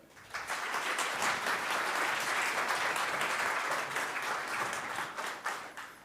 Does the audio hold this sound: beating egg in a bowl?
no